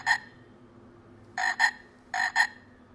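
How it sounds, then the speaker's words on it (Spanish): A toad croaks close by in three bursts: a single croak, then two quick double croaks separated by quiet pauses. "Es un sapo muy simpático."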